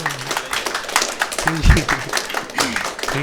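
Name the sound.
audience applause after a stand-up comedy joke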